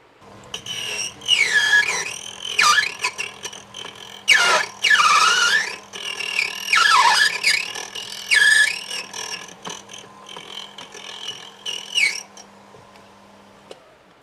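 A key cutting machine grinds a flip key blade, giving off loud, high rising and falling squeals in repeated passes over a steady motor hum, close by and with no voices.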